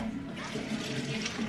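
Water runs from a tap while beans and chickpeas are washed in a kitchen, a steady close splashing flow lasting the whole moment.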